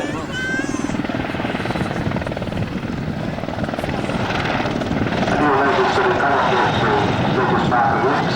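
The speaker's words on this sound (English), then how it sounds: "that's a single rotor, there's a 3-engine helicopter" A three-engine, single-rotor helicopter at an airshow gives a loud, continuous rotor and turbine roar that builds slightly toward the end, with a voice commentating over it.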